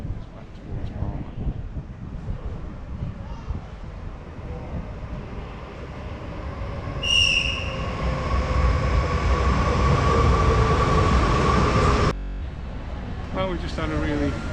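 A train rumbles at Inca station, Mallorca, with a steady low mechanical drone, a brief high squeal of brakes, and faint wind noise over the microphone.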